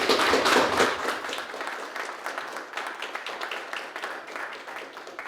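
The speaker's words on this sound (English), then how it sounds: "we will do a big round of applause for Danielle Breton" An audience gives a round of applause at an electric-vehicle talk session, dense clapping loudest at the start then thinning slightly but continuing steadily throughout.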